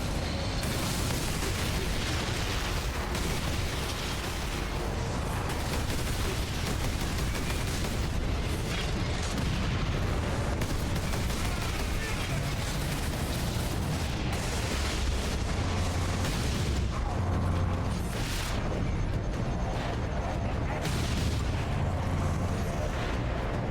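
Lascannon blasts and explosions from the video game Space Marine, a dense, continuous barrage of loud booms and bursts with heavy low rumble throughout, with some speech mixed in.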